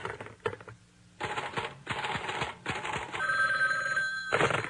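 A telephone rings in short bursts of bright electronic trilling, mixed with clicking keyboard-like taps and background noise, fairly close.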